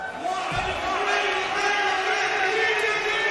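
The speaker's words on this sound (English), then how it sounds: "The other climbers will be hearing the cheers from the crowd and know that that'll be a good performance from him" Crowd noise at a lead climbing final: a steady, loud wash of cheering and shouting from spectators that holds from start to finish, with a brief low thump near the beginning.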